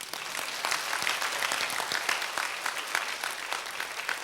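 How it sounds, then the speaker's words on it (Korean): Church congregation clapping during a revival sermon, a continuous crisp patter of many hands throughout, moderately loud and unaccompanied by talk. "박수."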